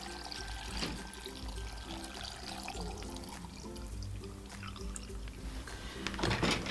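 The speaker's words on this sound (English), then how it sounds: "I'm just going to put our solution over it." Brine is poured over garlic cloves in a jar for fermenting, a steady trickling, gurgling pour that runs for several seconds close by and grows louder at the end.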